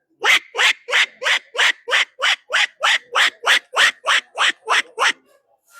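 A human voice mimics a buffalo swimming in a pond, a splashing, gulping sound, about fifteen rhythmic bursts in quick even succession, close and loud.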